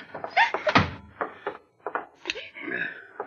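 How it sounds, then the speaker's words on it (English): In a vintage suspense radio drama, a door shuts with a single dull thump amid voices talking and groaning in a scene of a woman locked in. "get the door."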